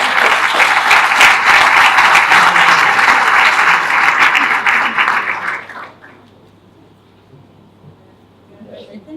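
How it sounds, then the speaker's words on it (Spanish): Audience applause at a technical talk during a surveying week event in Mar del Plata, loud, steady clapping for about six seconds before fading to a quiet room with faint murmurs. "así que los aplausos también para ellos"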